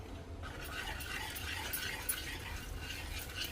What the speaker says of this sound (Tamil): தேங்காய் பால் ஊற்றி தான் கலந்துக்கணும்.